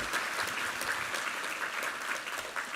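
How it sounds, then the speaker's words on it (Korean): A church congregation claps in steady, dense applause of thanks and glory, loud and continuous from start to finish with no voices above it. "우리 하나님께 감사와 영광의 박수 올려드리겠습니다."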